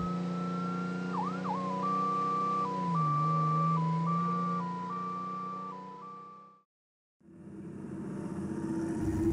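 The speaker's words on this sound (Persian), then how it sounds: "ماشین پلیس." A police car siren sounds with a stepped two-tone pattern over a low engine drone, loud and close, then cuts off briefly before rumbling traffic noise resumes.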